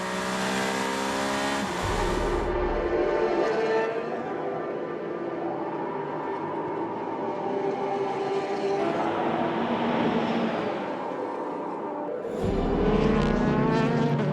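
Endurance race car at Fuji during the 2019 WEC 6 Hours, the fastest, lowest-drag car in the field, screams past at over 300 km/h, its engine note sweeping down in pitch; a second car passes near the end.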